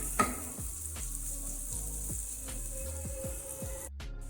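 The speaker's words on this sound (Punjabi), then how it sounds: "ਇਸੇ ਪੈਨ ਦੇ ਵਿੱਚ ਅਸੀਂ ਪਹਿਲੇ ਗਾਜਰਾਂ ਨੂੰ ਫਰਾਈ ਕਰ ਲਾਂਗੇ" Hard carrots fry in a pan for fried rice with a soft, even sizzle broken by repeated scraping stirs, heard close but at modest loudness, and no one speaks.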